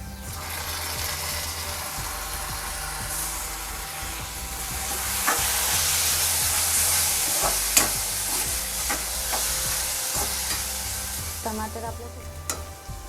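Tomatoes hit a hot pan for dhaba-style paneer masala and fry with a steady loud sizzle, while a spatula scrapes and clicks against the pan in repeated strokes throughout, with no talking.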